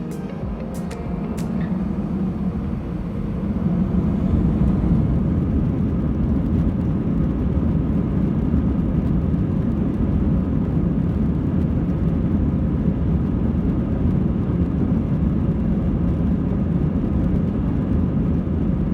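Air Canada Airbus A321 jet engines at takeoff, a loud, steady low roar that swells after the first few seconds and holds through the rest, heard from inside the cabin with no talking.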